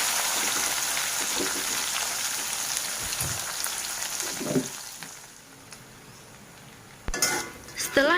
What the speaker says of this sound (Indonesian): Next, goreng ikan asinnya hingga garing.